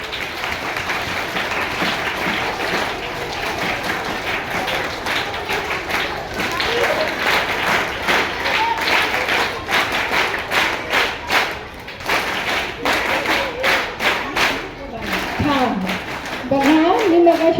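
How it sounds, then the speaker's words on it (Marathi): An audience at a kirtan performance held at a school in Pune claps in a dense, sustained burst of applause with scattered thumps, easing briefly near the end. "चला पुन्हा एकदा आपण 3 टाळ्या वाजवू दादासाठी"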